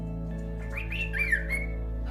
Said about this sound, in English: Hi, little bird.